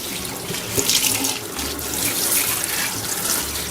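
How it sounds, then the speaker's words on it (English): Cool water running from a tap while conditioner is rinsed out of a curly wig, a steady close hiss and splash of flowing water that shifts slightly as the hair moves under the stream. "I'm just going to rinse this with cool water and get the product out of the hair"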